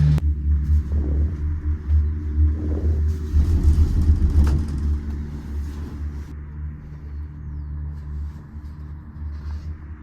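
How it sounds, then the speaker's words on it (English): A steady low mechanical rumble and hum fills a cable car ride in heavy rain in La Paz, Bolivia, with occasional clunks and swells before it settles into a quieter drone. "Now in the cable car."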